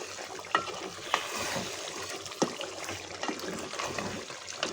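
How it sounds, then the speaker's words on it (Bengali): Beef curry being stirred in a pan as it cooks: a soft, continuous scraping and sizzle, with a few sharp spoon knocks against the pan. "এখন এটাকে নেড়ে দেবো।"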